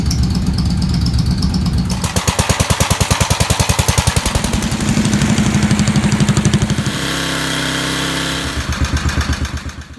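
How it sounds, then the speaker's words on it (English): A Jacobsen riding mower's small engine fires up after a shot of gas down the carburetor, chugging and putting in a loud, close, uneven rhythm, then settling into a steady idle before sputtering again. "maybe just give it a little shot of gas down the carburetor to see if it will run"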